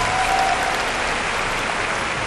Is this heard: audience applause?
yes